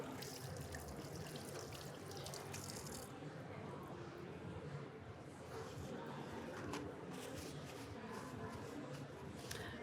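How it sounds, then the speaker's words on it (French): A kitchen tap runs steadily while hands are rinsed, a continuous close splashing hiss with no pauses, with faint birdsong outside. "je me rince un peu les mains, j'ai les mains qui collent"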